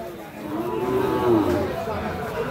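A single long, close moo from a young Sahiwal bull calf at a cattle market, loud and clear with no talking.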